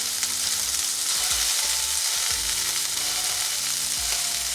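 Mini burgers and small market-bought meatballs fry in a pan with a steady, close sizzle, punctuated by several low knocks and scrapes as they are turned.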